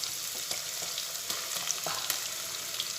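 A bitter gourd masala paste of garlic, coconut, roasted cumin and fenugreek hits a hot pan and sizzles steadily, with a faint, even crackle and occasional soft pops, no voices.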